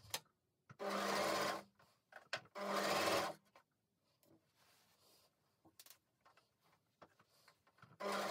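A home sewing machine stitches a fabric channel in two short, loud, close bursts, separated by quieter handling clicks and rustles, with another burst starting at the end.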